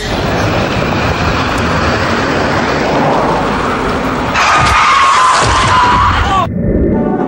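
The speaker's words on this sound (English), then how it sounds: "You can also run people over with these mythic cars." A mythic car in Fortnite drives and skids, a loud, steady roaring rumble with a high squealing tone partway through that cuts off sharply near the end.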